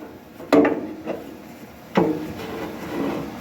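A wooden block is pulled out of a wood processor in a garage, giving two sharp knocks of wood on metal followed by scraping and rubbing, close and loud, with no talk.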